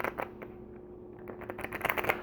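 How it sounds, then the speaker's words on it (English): A deck of tarot clarifying cards is shuffled by hand, giving quick papery riffles and soft taps in short irregular bursts that grow busier toward the end. "So let me shuffle these clarifying cards here."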